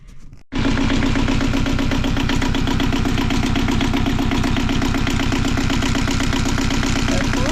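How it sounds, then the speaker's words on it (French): A sailboat's inboard engine, just fitted with a new alternator belt, cranks and fires, then settles into a loud, steady, rhythmic idle heard up close. "Maintenant, je vais aller partir le moteur pour voir"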